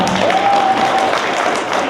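Applause from an audience at a winter-holiday closing ceremony at a cooperative club, steady dense clapping filling the room from start to finish, with a brief whistle-like tone riding over it early on.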